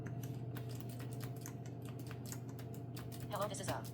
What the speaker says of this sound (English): we can both see and hear what Damien is typing in a document